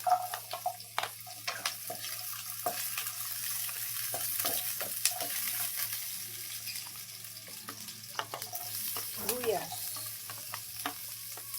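Ginger and garlic sauté in hot oil with a continuous close sizzle, broken by scattered clicks and scrapes of stirring against the pan.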